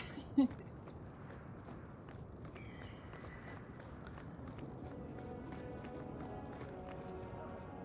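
Rhythmic clip-clop of horse hooves in the video game Dragon Age 2, a steady faint trotting cadence running under quiet ambient game sound for the whole stretch.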